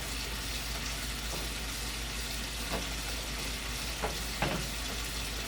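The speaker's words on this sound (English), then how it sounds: "I'm going to leave it simmer for a few minutes" Cream of chicken rice simmers in a pan with a steady, even sizzle and bubbling, broken by a few brief clinks and stirring sounds near the end.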